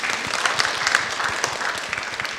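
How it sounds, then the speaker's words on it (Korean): A church congregation claps at a moderate level, with individual sharp claps standing out from a steady patter, no voices over it. "박수 한번 쳐주십시오"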